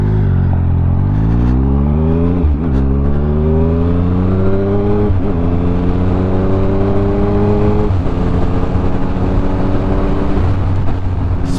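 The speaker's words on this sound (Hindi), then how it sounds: "पीछे कार आ रही है, उसके पीछे भी कार आ रही है।" Cars overtake a Triumph Speed Triple 1050 motorcycle from behind on a UK road: a loud, close engine drone with rising and falling pitch as vehicles pass, wind roar continuous throughout.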